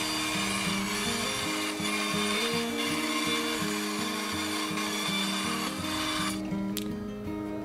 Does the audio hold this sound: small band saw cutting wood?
yes